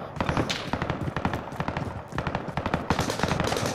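Rapid bursts of automatic gunfire in Call of Duty, loud and dense, with many quick shots rattling continuously across the whole stretch, plus faint voices now and then.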